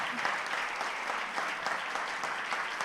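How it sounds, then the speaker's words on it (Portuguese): Church congregation applauding during a Sunday celebration service, a steady, full burst of many hands clapping with no break for the whole stretch. "Você pode aplaudir a Jesus"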